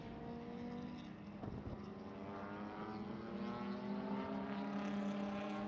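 A race car laps a road course in a NASA racing broadcast, its engine a steady droning whine that rises gradually in pitch and loudness as it accelerates, heard at a moderate distance with wind noise and no voices.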